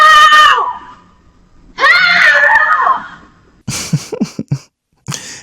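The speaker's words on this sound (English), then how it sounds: "she ran off screaming for help" A woman screams in two long, loud, wavering bursts separated by a short pause, followed by a few sharper, shorter vocal outbursts near the end.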